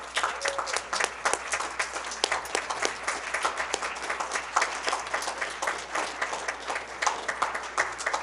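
Sustained audience applause at a Rochester Board of Education meeting, honoring families, support systems and honorees during a Women's History Month event; steady, dense clapping from a large crowd for the full stretch without letup.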